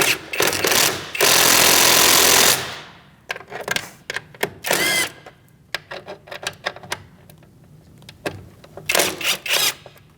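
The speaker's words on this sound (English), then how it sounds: "Use a 10mm socket and remove these 3 bolts." A ratchet with a 10mm socket works bolts loose on a 2016-2019 Chevrolet Cruze 1.4L transmission mount, with rapid close clicking bursts, a long buzzing run near the start and scattered clanks between.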